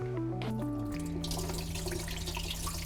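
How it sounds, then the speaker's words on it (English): Water poured out of a container in a kitchen while cabbage is being prepared, a steady splashing pour that runs continuously throughout, fairly close with no talking. "I'm pouring out the water."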